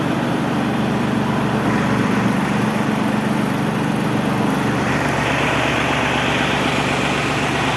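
A Japanese mini tractor engine runs smoothly at a steady idle, close and loud, with a constant low drone and no knocks. Around five seconds in the tone shifts slightly.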